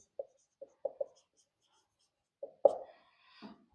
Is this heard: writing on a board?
yes